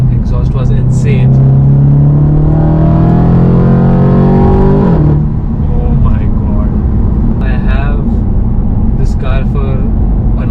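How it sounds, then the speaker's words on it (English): A 2011 Audi RS5 V8 with an Akrapovic exhaust revs up in one long, loud rising pull, then drops to a rumbling cruise, while someone talks throughout. "when I started up the car, the exhaust was insane"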